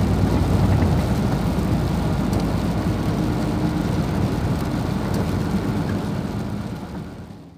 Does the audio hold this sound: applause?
no